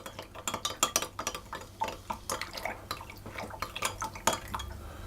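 A spoon stirs dry yeast into water in a bowl, giving a quick run of light clinks and scrapes against the sides, close and steady with no talk.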